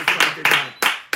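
A congregation claps in a quick, uneven burst of about four or five sharp claps to acclaim the Lord during a French-language church service, close and lively with no talking.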